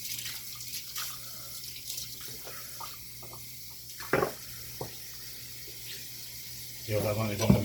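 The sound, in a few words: washing at the sink with running tap water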